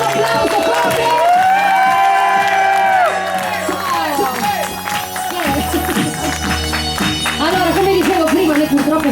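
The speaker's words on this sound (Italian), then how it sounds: "Fate sentire l'ultimo applauso forte!" A festival crowd at an outdoor sagra with an orchestra claps and cheers loudly, whoops and shouts rising over sustained music throughout, close and continuous.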